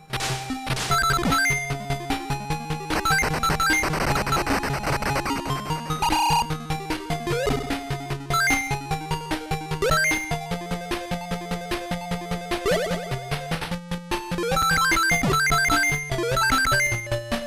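Busy, upbeat 8-bit Sonic the Hedgehog level music with bright melodic lines over a bouncing bassline, playing continuously with no talking.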